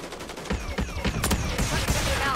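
Rapid bursts of automatic gunfire in the Warzone video game, loud, close and continuous, with repeated sharp shots overlapping one another and no speech over them.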